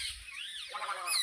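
A short, faint honking bird call, goose- or duck-like, sounds once or twice in a quiet village setting, distant and alone over a brief moment.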